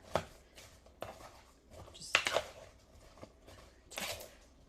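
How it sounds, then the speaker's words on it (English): Vegetables being tossed with olive oil and spices for foil-packet roasting, heard as soft, irregular clacks and rustles from a utensil working through the pieces in a bowl. The sound comes close and quiet, in short bursts with brief pauses. "mix it up so that the veggies are mixed in with and coated with the olive oil and the spices"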